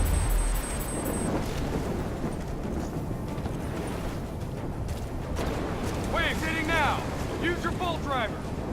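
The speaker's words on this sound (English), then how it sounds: "Incoming superstorm too strong. Storm's only gonna get worse." Thunderstorm in the Call of Duty Black Ops 3 video game, a steady roar of wind and rain with heavy rumbling, and some brief chirping calls near the end.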